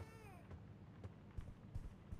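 A cat meows in a babysitter horror video game, giving one drawn-out meow at the start and then a few soft thumps over a quiet background.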